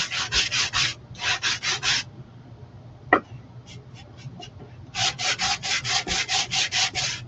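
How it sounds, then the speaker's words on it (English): An electric sander works a painted surface in short, rhythmic bursts of gritty rubbing, stopping for a couple of seconds with a sharp tap and light clicks in between before a longer run of steady strokes, close and loud. "I'm just going to sand this one before we chalk on it."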